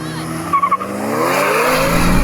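A Manhart BMW M3 and M2 launching off the line in a drag race, loud engines roaring and rising in pitch with a brief tire squeal at the start, close and building steadily.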